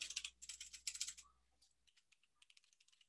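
Rapid clicking of a computer keyboard as a table caption is typed into a Word document, a dense burst of keystrokes followed by a quieter, sparser run of taps, close and alone.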